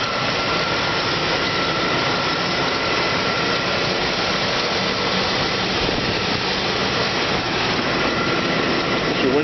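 A big V8 in a 1997 Chevrolet Suburban LT idles steadily with the hood open, a continuous low rumble and hum that holds even and fairly loud throughout with no talk over it.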